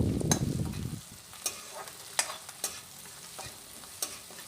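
A spatula stirs egg noodle ingredients frying in a pan: a busy sizzle at first settles into a softer hiss, broken by scattered scraping and clinking strokes at close range.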